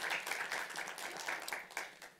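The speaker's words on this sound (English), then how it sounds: "Let's give Jorge one more round of applause." Audience applause at a conference session on infectious diseases in disadvantaged communities, a steady wash of many hands clapping at moderate loudness for a couple of seconds.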